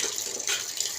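A kitchen tap runs steadily while vessels and spoons are washed. The water gushes continuously and fairly loudly, close by, with a slight surge midway.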